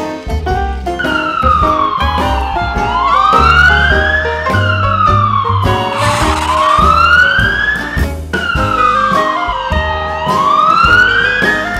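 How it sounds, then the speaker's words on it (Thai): A loud wailing police car siren rises and falls in long sweeping cycles, close and continuous with nothing else over it. "รถตำรวจ"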